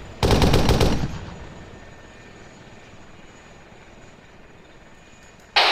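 A short, loud burst of machine gun fire in a military video game, a tight rattle lasting about a second over a steady engine drone, with a second brief burst near the end.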